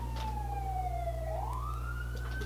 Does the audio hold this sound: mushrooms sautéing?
no